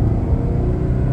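A Ferrari 360 Modena engine produces a loud, close, steady low roar and rumble that holds at an even pitch for the whole short stretch.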